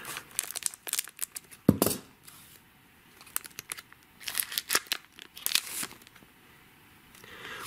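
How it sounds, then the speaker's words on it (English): Scissors snip and crinkle through the foil wrappers of Pokemon card packs, giving sharp close cuts mixed with rustling plastic in irregular bursts. "Blue scissors are back."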